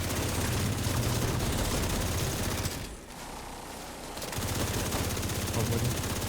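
Rapid automatic gunfire in the video game The Division 2, dense sustained bursts that break off briefly for about a second before resuming at full intensity.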